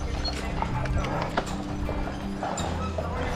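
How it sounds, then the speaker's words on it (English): Horse hooves clip-clop steadily along a road on Mackinac Island, a near, continuous rhythmic clatter with a whinny mixed into busy outdoor street noise. "Try not to get hit by a horse."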